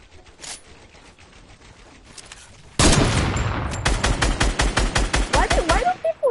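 Gunfire in a first-person shooter video game: quiet at first, then a sudden loud burst followed by rapid automatic fire in evenly spaced shots, with a voice faintly in the background.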